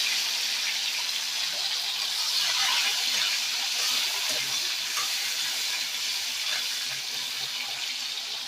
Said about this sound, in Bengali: টমেটোটা দিয়ে দেবো তেলের মধ্যে